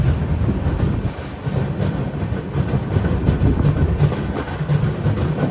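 Venad Express passenger train pulling out of Chalakudy railway station, a steady low rumble of wheels and carriages with faint rhythmic clatter, heard from on board, continuous and fairly loud.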